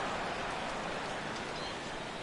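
Steady rain falls throughout a baseball video game on PS4, a soft continuous hiss with no distinct drops, heard at a low, even level.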